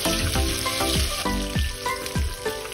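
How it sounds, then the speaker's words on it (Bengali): Chopped onions with slit green chilies fry in a pan for a beef brain bhuna, a bright crackling sizzle broken by several rhythmic scraping stirs of a spatula. "পেঁয়াজ কুচিটা কিছুক্ষণ ভেজে ওর ভিতরে আমি কাঁচামরিচ দিয়ে দেবো।"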